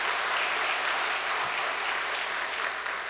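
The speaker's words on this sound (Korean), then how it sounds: "감사의 박수 한번 보내주시면 고맙겠습니다." A church congregation gives a steady round of applause, a dense, even wash of clapping from many hands in an indoor hall, with no speech over it.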